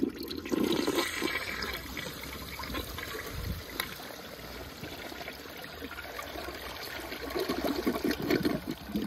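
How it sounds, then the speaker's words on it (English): A 1984 Eljer Emblem toilet flushes with a sustained rushing gurgle of water draining from the bowl, swelling again near the end as the refill continues, moderately close with no speech. "Let's give it a flush."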